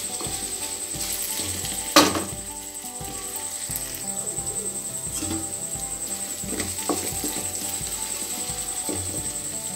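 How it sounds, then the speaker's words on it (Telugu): Raw mango chutney cooking in oil over medium flame while being stirred, a steady nearby sizzle with rhythmic scraping of the spoon and one sharp clank early on. "ఇలా ఆయిల్లోనే మనం ఒక 5 మినిట్స్ పాటు కుక్ చేసుకోవడం వల్ల"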